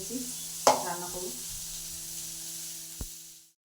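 Sliced radish (mooli) fries in a pan with a steady, bright sizzle, broken by a sharp clack early on and a faint knock near the end before it cuts off.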